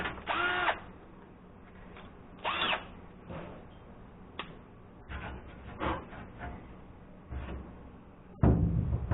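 A power drill with a hole cutter whirs in short bursts, starting and stopping several times, with clunks and scraping from the bit biting into material.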